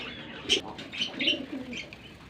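Fancy pigeons coo softly in a few brief, close throaty calls mixed with faint chirps, fairly quiet and over low background noise.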